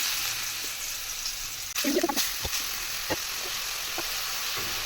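Grated ash gourd for halwa sizzles in a hot pan with a steady close hiss, broken by a few clattering scrapes and knocks of stirring.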